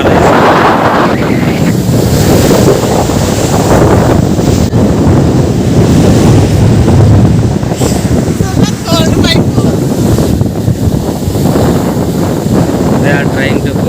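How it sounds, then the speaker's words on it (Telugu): Sea waves wash up on the beach at Stanwell Park near Sydney, a loud roaring surf heavily buffeted by wind noise on the microphone, with faint voices nearby. "సముద్రం దగ్గరకు వచ్చిన ఇప్పుడే అలలు బాగా మధ్య వస్తున్నాయి"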